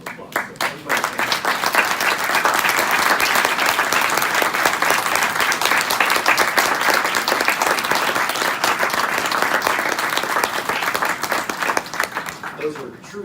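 A large crowd at a childhood cancer summit gives a sustained round of applause for mothers standing up, opening with a few sharp claps, swelling into loud, dense clapping, then fading near the end, with voices mixed in.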